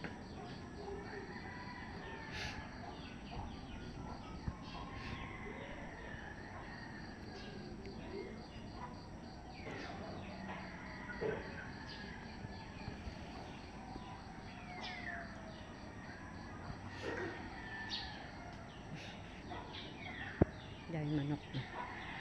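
Chickens on a farm in Lipa, Batangas, give off faint, scattered clucks and an occasional distant rooster crow over steady wind and insect chirping.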